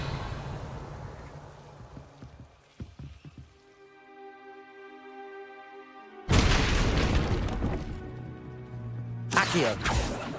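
A Revelio spell cast in the video game Hogwarts Legacy: soft sustained chiming tones swell, then a sudden loud shimmering burst hits and rings out, with a second bright flare near the end.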